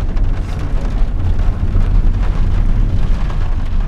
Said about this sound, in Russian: дождь, гроза.